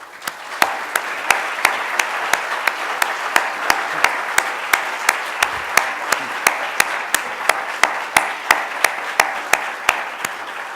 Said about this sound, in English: I'd like the audience to join me in a round of applause